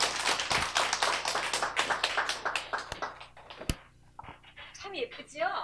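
An indoor audience claps to welcome guests onto a stage, a dense burst of many hands at first that thins into scattered claps and fades, while a voice speaks over the tail.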